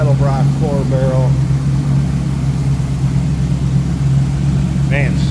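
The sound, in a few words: 5.7 liter GM crate engine idling in 1934 Ford pickup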